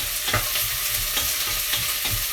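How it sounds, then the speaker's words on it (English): Three sliced onions frying in a pan for a Persian soup (ash reshteh), a steady close sizzle with rhythmic stirring scrapes, no talk. "I've just sliced 3 onions up like this, just normal slices. We just put them in, let them start cooking."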